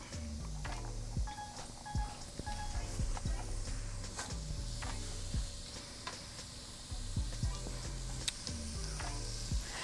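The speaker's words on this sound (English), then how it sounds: "our onion and our carrots and our celery. That's what we're gonna saute first" Onion, carrots and celery sautéing in a pot, a soft sizzle under a repeating rhythmic clatter and faint background sounds, with no voices.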